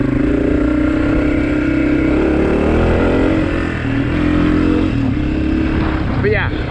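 A 2023 Honda CRF250F dirt bike engine drones loudly and close while riding, holding a steady buzzing tone with small shifts in revs as the throttle changes.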